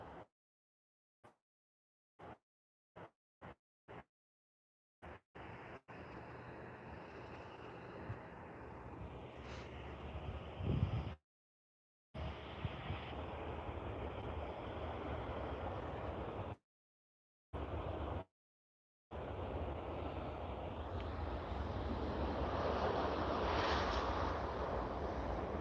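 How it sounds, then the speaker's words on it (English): An Air Canada passenger jet arriving from Calgary on runway 26 at Vancouver International Airport, heard as a sustained, broad roar mixed with wind buffeting from an outdoor microphone, broken by several short gaps. "Into 26 right here is Air Canada Flight 223 from Calgary, service with an aircraft."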